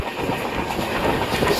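The Sampark Kranti Express runs on the rails near Edappally, with a steady rumbling roll and faint rhythmic clatter heard from on board, constant throughout the short stretch.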